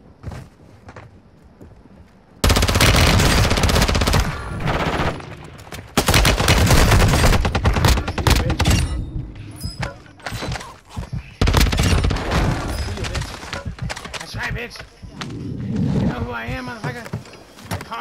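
Bursts of loud automatic gunfire and rapid shots ring out in a video game match, dense and sustained in several long stretches, with players talking over the shooting.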